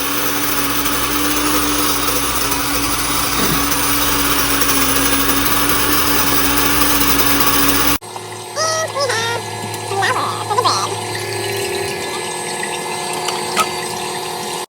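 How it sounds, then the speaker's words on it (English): A grain mill grinds wheat berries into flour with a loud, continuous high whine and gritty grinding, which drops abruptly partway through into a quieter hum with scattered clicks and clatter. "I do grind my own wheat berries to make flour"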